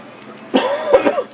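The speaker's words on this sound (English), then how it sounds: "Excuse the cough. Smoker's cough." A man's smoker's cough, one rough, throaty burst followed by a couple of smaller hacks, close and loud with no speech.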